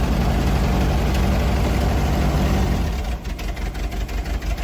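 A 1925 Ford Model TT fire engine drives along a road in high gear, its engine a steady low rumble close by that eases off and grows rougher near the end as the throttle drops.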